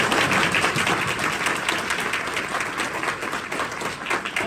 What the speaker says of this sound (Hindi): प्रभु के नाम में ताली को बजाएंगे।